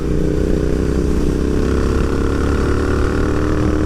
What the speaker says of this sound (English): Some people don't like a loud exhaust